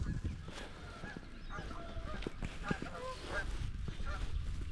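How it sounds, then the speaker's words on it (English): Two geese honk repeatedly in a series of short, harsh calls, fairly close, over steady outdoor background noise by a creek used for kayaking and fishing. "Two geese."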